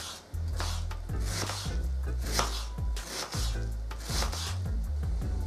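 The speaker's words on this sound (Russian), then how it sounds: "Лук нарежу мелким кубиком." An onion is diced into small cubes for a layered pancake cake, with a knife knocking the board in a steady series of crisp chops over soft background music.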